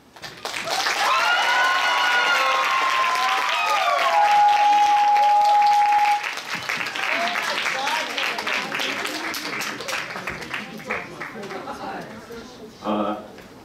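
A school chapel audience welcomes lawyer Choi Ki-sik with loud, sustained cheering, whoops and clapping that swell for several seconds, then taper into scattered claps and murmuring voices.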